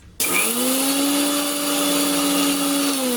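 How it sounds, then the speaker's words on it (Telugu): A mixer grinder powders poha, starting abruptly into a loud, steady high whine that holds for about three seconds and then begins to wind down, close by and with no talking. "1 కప్పు అటుకులు తీసుకొని మిక్సీ పట్టాలి. మెత్తటి పౌడర్ లాగా మిక్సీకి పట్టాలి."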